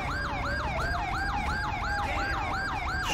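A fire engine siren in GTA 5 wails in rapid repeating up-and-down cycles, loud and steady, with a second siren tone running underneath.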